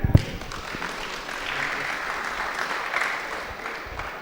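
An audience claps for a spot prize winner at a science event in Goa, steady applause that starts with a sharp clap and carries on evenly throughout, with no voices.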